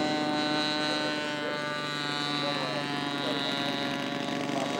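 Engine of a scale model aircraft at an air show during takeoff, a steady high-pitched drone with sustained harmonics that holds at near-constant loudness throughout, with faint background ambience.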